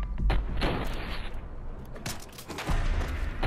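Gunshots in Fallout 4 survival mode, a few sharp booming blasts with rumbling tails in a chaotic fight, loud and close, the firing clustered at the start and again near the end.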